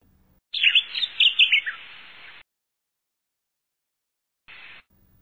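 Bright bird chirps in a quick burst of twittering notes, followed by silence and then one short, faint chirp near the end.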